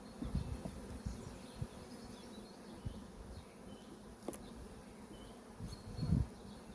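A soft, steady hum of honeybees buzzing close by on hive frames, with a few louder buzzes passing near and faint clicks and rustles underneath.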